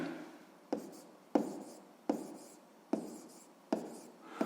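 Pen or pencil strokes on paper while writing down a maths answer, a series of about six scratchy bursts at a steady rhythm, close and quiet, with no talking.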